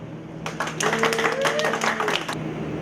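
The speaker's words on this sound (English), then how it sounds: "give a big round of applause for former Miss America, Miss Hawaii, Angela Baracchio Gray" A pageant audience claps and cheers for former Miss America and Miss Hawaii Angela Baracchio Gray, a burst of applause rising after half a second and fading near the end, with voices mixed in.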